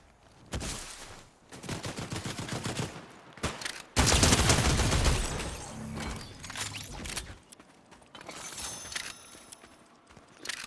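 Gunfire from a shotgun in the video game Fortnite, a series of loud shots and bursts in quick succession, with one heavy blast near the middle and sparse shots trailing off toward the end.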